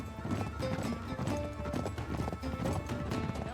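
Horse hooves gallop in the game Uncharted 3, a rapid, steady clip-clop rhythm at moderate level over a busy background, with a brief whinny-like tone.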